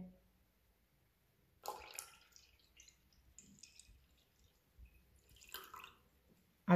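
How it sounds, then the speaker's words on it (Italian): Water and milk are poured together to mix gnocco fritto dough, heard as two short splashing pours separated by quiet gaps and a few light clinks, with no talk. "Iniziamo a miscelare subito acqua e latte."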